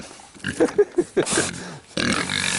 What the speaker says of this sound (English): So, pigs are doing good.